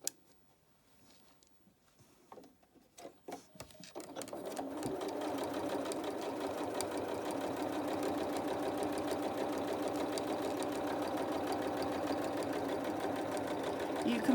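After a few quiet clicks and some soft handling, a sewing machine starts up and runs in a steady, fast, close mechanical chatter as it stitches quilt-as-you-go patchwork blocks.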